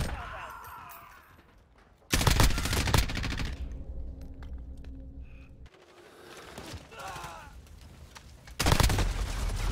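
Gunfire in Call of Duty: Modern Warfare (2019), loud sharp bursts of shots in two separate volleys with quieter game ambience and faint voice between them.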